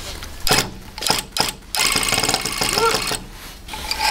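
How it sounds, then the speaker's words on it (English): A rug tufting gun fires in short rattling bursts, then runs in a longer buzzing stretch, loud and close, with speech mixed in. "we got ourselves the tufting gun for making rugs"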